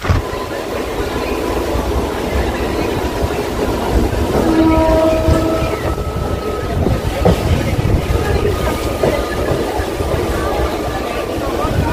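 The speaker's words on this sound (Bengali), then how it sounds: "কাটোয়া থেকে ছাড়ার পর থেকেই কিন্তু সম্পূর্ণ স্পিড ধরে নিয়েছে এই কাটোয়া বর্ধমান লোকাল।" A Katwa–Bardhaman local train running at full speed, a loud continuous rumble and rattle of the wagons heard from on board, with a brief horn tone partway through and some voices mixed in.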